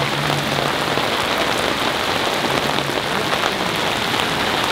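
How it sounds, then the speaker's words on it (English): Heavy rain pours steadily onto surfaces outside a Portland sneaker store during an overnight campout queue, a loud, dense, unbroken hiss with no talking. "This rain is ridiculous"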